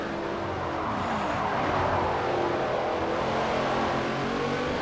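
V8 Supercars racing in Forza Motorsport 4, a steady roar of several engines at high revs with faint tire noise, continuous and fairly loud with no talk.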